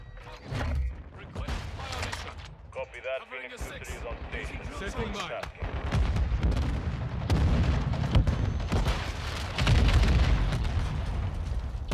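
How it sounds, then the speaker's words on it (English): A flashbang grenade goes off in a Modern Warfare 2 match, a loud burst followed by ringing, layered among heavy gunfire and explosions while a player talks throughout. "Freaking flashbang. Can't see nothing."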